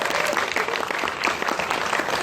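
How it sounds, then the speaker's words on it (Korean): Audience applause for a film director at a premiere Q&A screening during a festival, dense and steady clapping from a full room lasting the whole stretch with no pause. "감독님께 지금은 박수를 한 번 더 부탁드리겠습니다."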